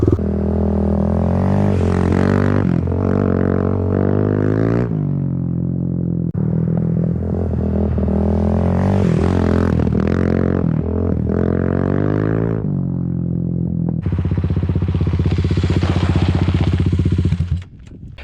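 A Kawasaki KLX351 dirt bike's single-cylinder engine revs hard and drops repeatedly as the bike slides sideways through a long, swooping dirt corner, loud and close, with rising and falling throttle sweeps and no talking.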